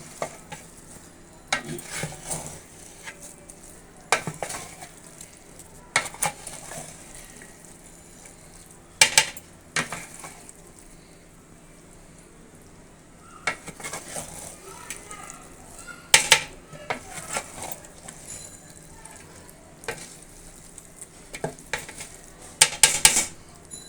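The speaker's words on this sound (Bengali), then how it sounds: "এখন মাংসটা পুরো চালের সাথে মিশিয়ে দমে দিয়ে দিব" Meat being stirred into rice in a pot for tehari, with repeated scraping spoon strokes and metal clanks over a low sizzle, close by; a voice speaks at times between the stirring.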